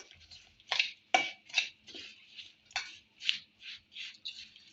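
A spoon stirs mustard seeds and nigella spices together for gunda (lasoda) pickle, making close, crisp scraping strokes in an uneven rhythm, about a dozen in all, with no talking.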